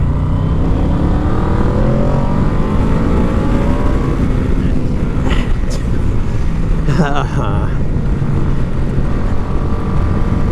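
A Yamaha VMAX motorcycle with faulty carburetors accelerates on the road, its engine a deep, rising roar over wind rumble, while a rider talks over the noise.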